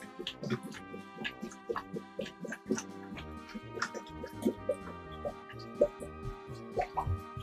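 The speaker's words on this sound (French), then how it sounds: "Donc, je vais mettre essentiellement de l'eau." Water poured into a Tupperware UltraPro pressure cooker, heard as close, irregular dripping and plopping splashes that keep going without pause, with no talking.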